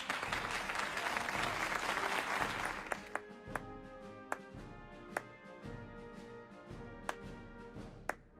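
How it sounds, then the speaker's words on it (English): Applause from an audience at an education foundation industry awards lunch, dense at first, then thinning to scattered individual claps over a soft murmur. "Clap one more time"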